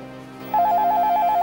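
A home telephone in an Egyptian TV drama starts ringing partway through over a low background hum: a loud, close, warbling electronic ring that continues to the end.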